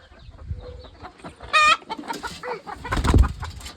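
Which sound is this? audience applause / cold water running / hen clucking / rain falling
hen clucking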